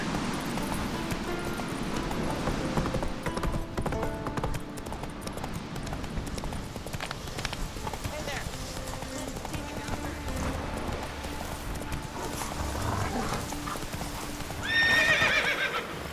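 Roach, the horse in The Witcher 3, gallops in a steady rhythmic clip-clop of hooves that carries throughout, close and fairly loud, ending with a sharp high whinny; a voice speaks over the hoofbeats.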